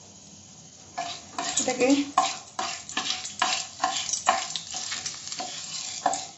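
Mace and star anise pieces fry in hot oil in a pan, a steady sizzle broken by rhythmic scraping strokes of a spatula against metal; a voice says a single word briefly.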